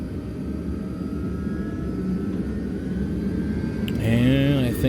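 Airliner taxiing on the runway for a flight from Green Bay to San Francisco, a steady broad engine rumble with a rising whine near the end, heard from inside the cabin.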